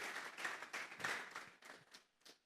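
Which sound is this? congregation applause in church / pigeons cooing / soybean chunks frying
congregation applause in church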